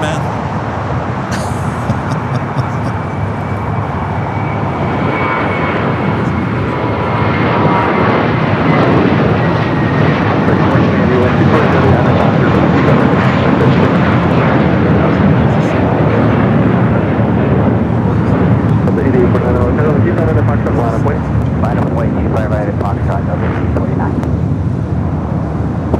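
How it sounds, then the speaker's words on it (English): An American Airlines A321 takes off at LAX, its jet engines a loud, steady broadband roar that swells slightly and holds for the whole stretch, with a voice talking faintly underneath. "Taking off just now is American Airlines Flight 12 heading to Boston and that A321."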